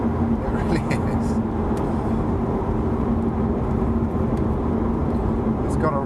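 Lotus Evora GT430 pulling hard on a British B road, engine note rising steadily toward the rev limiter, loud and continuous from inside the car with road and wind roar underneath, and a voice speaking over it.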